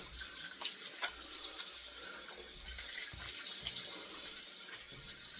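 Water running from a tap while a razor head is rinsed during a shave: a steady hiss of flowing water with small splashes and shifting spatter, close and with no voice.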